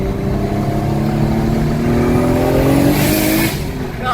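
Turbocharged car running on E85 fuel revs hard and loud, its engine tone climbing steadily as the turbo spools, with a rising hiss near the end and no talk.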